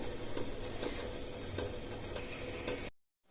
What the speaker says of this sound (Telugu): తాలింపు వేసాక అంతా ఒకసారి కలుపుకొని పెట్టుకుందాము.